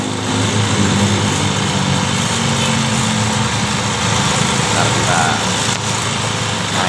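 A Yamaha Xeon motorcycle engine idles steadily and close by, a continuous buzzing drone with a low, even rumble that holds for the whole stretch; someone talks over it for part of the time.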